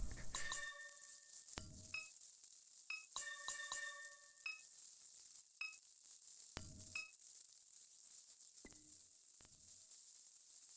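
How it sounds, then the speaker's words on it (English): A rattling statue in the video game NORCO gives sharp metallic clinks and rattles in irregular bursts over a steady sizzling hiss, with brief ringing tones after several hits. "I would like to step away from the rattling statue."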